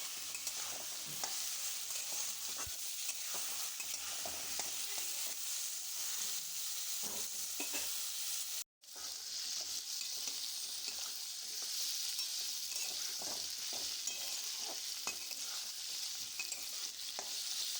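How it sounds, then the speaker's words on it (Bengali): Potatoes frying in a pan for a spiced potato curry while being stirred, a steady close hiss of sizzling oil with light scraping taps of the spatula throughout and a brief cut near the middle. "এবার খুব ভালোভাবে নাড়াচাড়া করে ভেজে নেব আলুটা"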